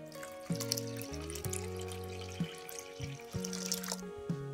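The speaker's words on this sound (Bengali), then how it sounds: "এবার এর মধ্যে দিয়ে দেবো কুসুম কুসুম গরম জল।" Lukewarm water is poured onto cleaned mung dal, making a soft splashing trickle nearby, partly masked by melodic background music with no speech.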